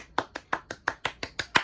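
Nine sharp hand claps in an even, fairly quick rhythm, close and crisp with short decays, heard alone in a quiet room.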